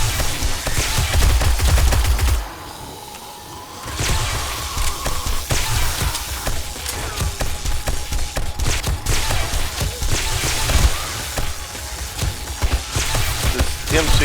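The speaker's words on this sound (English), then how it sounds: "This M60 is so strong on this. I have silencer on it, by the way." A silenced M60 machine gun in the game 7 Days to Die fires in long rapid bursts with a brief pause, loud and close, with other game noise underneath.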